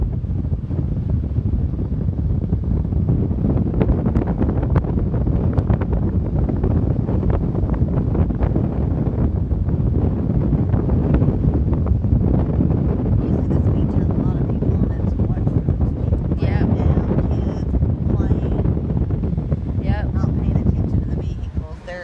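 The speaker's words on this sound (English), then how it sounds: "It's a little windy, so I'm going to talk." Steady wind buffets the microphone in a loud, continuous roar on a Gulf County beach, with a dense rumbling wash that could include surf in the background.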